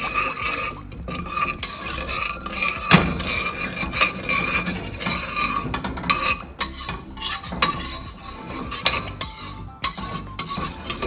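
Garam masala frying in hot oil for biryani, a dense continuous sizzle and crackle mixed with steady scraping and stirring of a metal spoon in the pot, close and fairly loud throughout.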